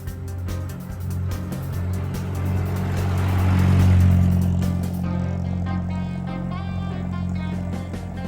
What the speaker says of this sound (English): Vintage car.